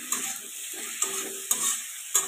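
Sliced ridge gourd sizzles softly in a pan with turmeric powder as a spatula stirs it, with several sharp scrapes and clinks against the metal over a faint, steady frying hiss.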